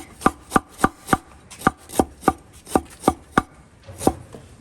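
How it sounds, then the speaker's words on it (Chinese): A knife chops slices of ginger on a cutting board while beef is prepared for Guizhou dry pot. About a dozen crisp, close thuds come in a steady rhythm, then a short pause and one last chop, with no voices. "切点姜片"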